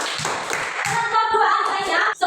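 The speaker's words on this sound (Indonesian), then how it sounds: "Berikan tepuk tangan untuk kelompok" Students in a classroom clap for a group, a burst of uneven hand claps close by with some voices and cheering mixed in, ending abruptly.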